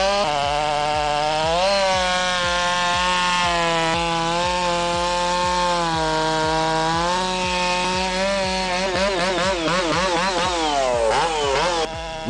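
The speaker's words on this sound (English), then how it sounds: "Listen to the brutal roar of that saw." A Stihl MS660 chainsaw roars loudly and steadily as it cuts through big oak, the engine pitch dipping and rising under load near the end.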